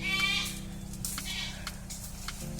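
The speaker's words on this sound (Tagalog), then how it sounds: "Nagugulat yung mga kambing, ang ingay nila." Goats bleating a few times nearby over a low steady background hum, with short cries scattered across the moment.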